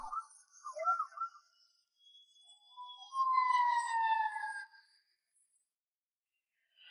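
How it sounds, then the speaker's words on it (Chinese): A fire engine siren rises and falls in faint, high sliding tones, with a few short, thin wails and a brief pause before a longer, stronger sweep. "拉响警报，哇呜哇呜"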